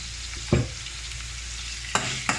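Onion and salt stirring in a hot pan for carrot rice, with a steady low sizzle and a few brief scraping stir strokes, near and alone with no talk.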